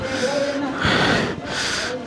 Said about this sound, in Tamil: மூச்சு வாங்குதுங்க,